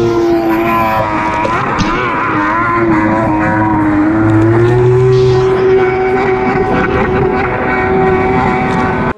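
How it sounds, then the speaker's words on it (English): An 1100cc two-stroke triple engine on a stand-up jet ski with an aftermarket exhaust, a loud, close, continuous buzzing drone with a strong steady pitch that rises and shifts slightly as the throttle changes. "It's a two stroke and it's incredibly loud."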